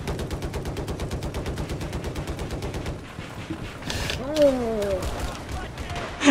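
Rapid automatic gunfire in the video game Battlefield 4, a fast regular burst for about three seconds, followed by game sounds, a rising whine and people talking over it.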